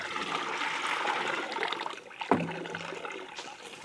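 Water flows slowly through a double U siphon made of 1/2 inch tubing. A soft, hissing trickle is broken by one sudden gurgling gulp partway through, then quieter dribbling follows.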